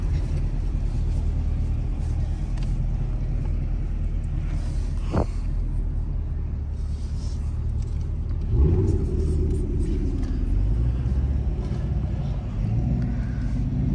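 A Camaro, either a ZL1 or an SS, rumbles steadily through traffic with a deep, continuous low engine drone that swells slightly partway through, close and loud with no talk.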